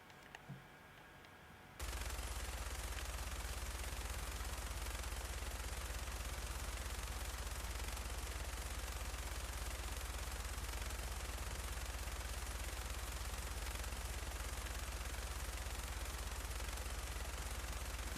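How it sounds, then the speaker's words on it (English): A minigun in the video game Fallout 4 fires as one continuous, loud, unbroken roar that runs for over fifteen seconds after a brief quiet opening. "that's the minigun"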